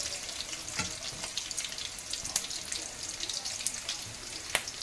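Green chili, ginger and garlic frying in a pan, a steady close sizzle with scattered crackles and pops throughout.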